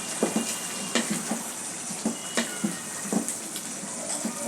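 Papaya frying in a pan, stirred thoroughly, giving a soft continuous sizzle with regular scraping strokes of a spatula, close and fairly quiet, with no talk.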